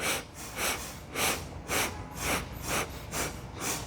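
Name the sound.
eight quick sniffing inhales through the nose, breathing exercise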